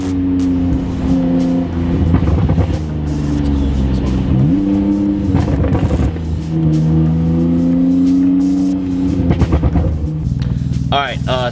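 A loud, race-car-like car engine roars and revs through repeated downshifts, its pitch dropping and climbing in several bursts, with a higher squealing rise near the end and steady engine drone throughout.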